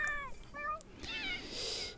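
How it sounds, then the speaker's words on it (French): Cats in The Sims 4 giving a quick run of short, high meows, moderately loud over soft game ambience, with a brief click partway through. "Ensuite, tu pourras peut-être t'occuper un peu des chats,"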